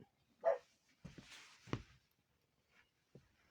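A puppy makes a couple of soft yips and short barks nearby, with light shuffling and scratching noises between them.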